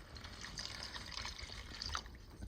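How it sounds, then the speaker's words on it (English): Eight cups of water pour into a pot of French onion soup as a quiet, steady trickle and splash that runs for a few seconds with no voices. "So now we're gonna add our 8 cups of water."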